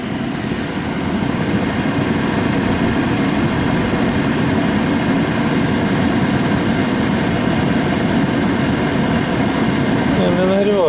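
The heater blower fan of a Chevrolet Trax runs with a steady, loud airy whoosh and low hum throughout, and its speed is stepped through the settings; someone talks over the fan.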